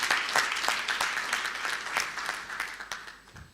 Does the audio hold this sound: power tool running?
no